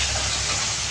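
Hot oil spatters loudly as small fish fry in a pan, a dense, close, unbroken hiss across the whole moment.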